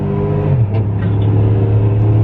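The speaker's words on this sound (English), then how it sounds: "This car downshifted." A car downshifting during a roll race, heard as a loud, close engine note that drops in pitch as the gear changes and then holds a strong, steady accelerating drone, with no talking.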